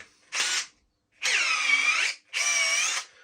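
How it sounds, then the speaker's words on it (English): A power drill whirs in three bursts, a short one followed by two longer runs, close and loud with silence between them. "Let's try it with this drill and see how it performs."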